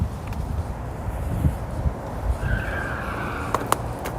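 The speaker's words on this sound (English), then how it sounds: "Sounds like somebody's drifting, bro." A car drifts somewhere nearby, its tires skidding in a rising squeal that comes through a low outdoor rumble, followed by a couple of sharp knocks.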